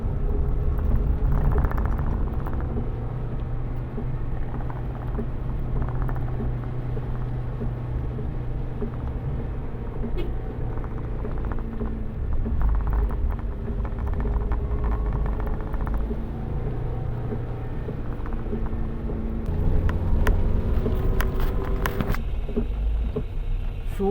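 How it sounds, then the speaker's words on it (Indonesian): A truck labouring up a steep, winding uphill road through forest on the western Sumatra route, a low, continuous engine rumble and drone rising and falling over a long stretch, with no talk. "ini truk nih susah naik dia tanjakan"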